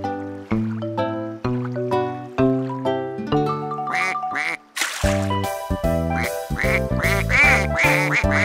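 Cartoon duck quacking in a lively children's song, with repeated bright quacks set over a bouncy musical backing that keeps building, loud and close throughout.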